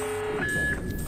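An alarm in the stealth video game Splinter Cell: steady electronic beeping tones, first a lower sustained tone then a higher one, continuous over a dense game-sound background.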